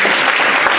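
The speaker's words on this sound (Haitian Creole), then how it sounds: "Applaudissez le Seigneur" A church congregation in Tampa breaks into loud, dense, continuous applause at close range for under a second.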